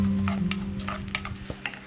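Onions sizzle and crackle in a hot pan for a white kurma, with a few scraping stirs and soft clicks over a low steady hum.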